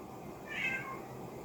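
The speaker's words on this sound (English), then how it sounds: "forgive me for the meows in the background" A pet cat gives a single short, faint meow in the background of a quiet room.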